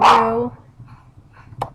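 A dog barks at children outdoors, one loud bark-like burst at the start followed by a few fainter sounds, heard from indoors in a quiet room.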